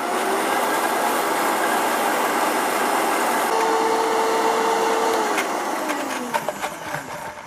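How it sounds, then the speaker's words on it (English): Vitamix blender running steadily on mustard seeds with a dense, even whirring roar, a brief shift in pitch midway, then winding down with a few knocks and clatters near the end. "we're just gonna blend it a little bit more."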